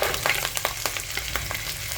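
Pork bones dropped into a pan of frying onion, garlic and ginger, a steady crackling sizzle with scattered pops and stirring clicks, close and continuous.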